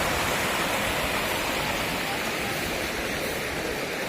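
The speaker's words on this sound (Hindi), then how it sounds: "पानी का बहाव बहुत अच्छा है।" Steady, loud rushing of flowing water beside a small temple at Chitrakoot Dham in Uttar Pradesh, a continuous broadband roar close by with no pauses and no voices.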